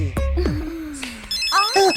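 A phone rings with an incoming call in a comedy film scene, sounding as short tonal ringtone notes mixed with brief voices and exclamations at moderate loudness.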